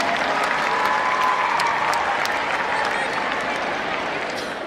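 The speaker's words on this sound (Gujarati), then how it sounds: "આ ડોક્યુમેન્ટરી નિહાળીને સૌને તાળીઓના ગળગળાટથી અમારા મંડળને વધાર કહેવા માટે વિનંતી" Sustained audience applause after a documentary screening at an annual function, a dense wash of many hands clapping at steady loudness for several seconds, easing slightly at the end.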